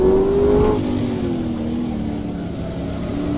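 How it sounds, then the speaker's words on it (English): A heavy 1500-kilogram, 638-brake-horsepower race car in rFactor revs loudly, a high engine whine sliding downward as the car slows, then settling into a lower droning growl that holds close and steady. "Big, scary 1500 kilogram, 638 brake horsepower beast."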